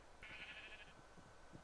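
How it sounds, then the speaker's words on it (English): A single sheep in Minecraft, the block-building video game, lets out one short, faint bleat, distant and quiet against a soft background hum. "The sheep are making lots of noise"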